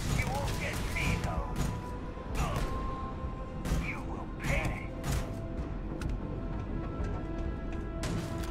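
Explosions and impact blasts from the video game Starfield, several sharp bursts and crashes spread across the span with a busy rumbling background, while someone talks over the action.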